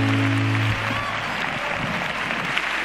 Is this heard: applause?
yes